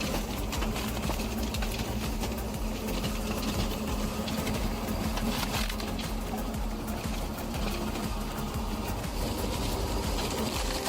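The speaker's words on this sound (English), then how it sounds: "This is a rather unique device, with the splitting wedge pointing upwards and the log placed on top of it." A homemade automatic firewood processing machine with an upward-pointing splitting wedge runs continuously, a dense steady mechanical clatter and hum of the machine working logs, with no pauses.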